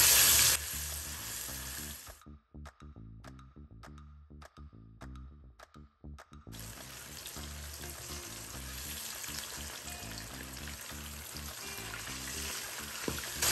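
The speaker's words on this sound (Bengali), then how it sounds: "ইলিশটাকে তেলে ভেজে তুলতে হবে" Hilsa fish frying in hot oil at an outdoor stall at Mawa ghat, with a steady loud sizzle that is briefly interrupted by a quieter stretch of rhythmic stirring before the full crackle returns.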